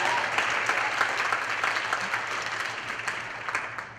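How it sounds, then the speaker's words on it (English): Audience applause fills a music hall theatre show, a steady dense clapping of a full house that holds for several seconds and tapers slightly at the end. "a warm round of applause for Nick Cricker and his son"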